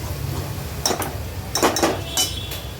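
A spoon scrapes and clinks against a pan while spiced food with chili powder and turmeric is mixed, with three or four short metallic strokes close by in a quiet kitchen.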